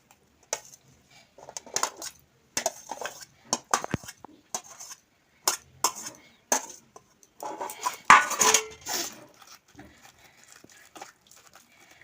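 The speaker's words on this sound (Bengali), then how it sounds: "কাঁচা লঙ্কা বেটেছি তো হাতটা জ্বলে যাচ্ছে, ওই জন্য চামচ দিয়ে মাখাচ্ছি।" Spoon mixing raw prawns with ground green chilli in a bowl: irregular clinks and scrapes of metal against the bowl, close and fairly quiet, with short pauses between strokes and no talk.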